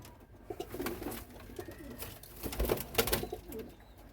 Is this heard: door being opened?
no